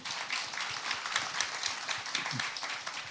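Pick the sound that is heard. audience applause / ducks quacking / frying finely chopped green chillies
audience applause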